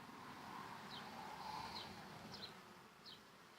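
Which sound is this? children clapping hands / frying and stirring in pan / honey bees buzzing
honey bees buzzing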